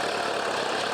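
A tractor engine runs steadily at dusk while spreading soil in rural Thailand, a close, continuous mid-to-low engine drone with no voices.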